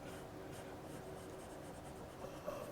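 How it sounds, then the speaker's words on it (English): Charcoal pencil drawing on paper, a faint, continuous dry scratching of strokes, close and quiet, with no talk. "I don't know if you can see the actual charcoal that I'm putting on here with the pencil"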